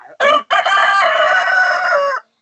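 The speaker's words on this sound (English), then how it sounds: "as soon as I go outside, he starts crowing at me" A rooster crows loudly and close by, one long drawn-out cock-a-doodle-doo after a short opening note, with no talking.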